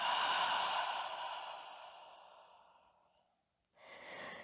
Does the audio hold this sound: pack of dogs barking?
no